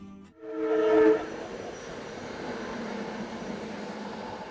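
A train runs along a railroad beside the Schuylkill River, opening with a brief loud horn-like tone before a steady rumble of rolling cars carries on at moderate distance with no talk.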